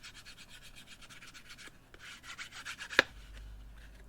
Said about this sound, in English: we're going to take a light sanding block